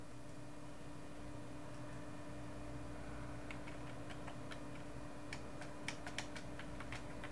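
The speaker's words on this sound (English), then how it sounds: "Typing." Keyboard typing heard as scattered soft clicks that pick up in the second half, faint against a steady low hum and broadband hiss in a TV studio.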